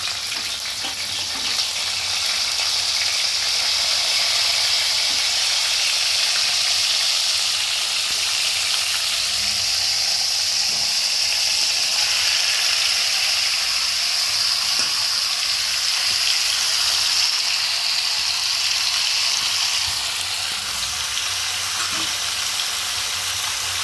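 Chicken and tomato fry in hot spiced oil tempered with cinnamon and cardamom, producing a loud, unbroken hissing sizzle close by with faint stirring throughout.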